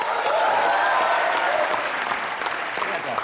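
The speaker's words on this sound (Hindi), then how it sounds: "इनके लिए भी जोरदार तालियां" A studio audience at a comedy talk show applauds steadily, dense and fairly loud clapping that holds for several seconds with a slight fade toward the end.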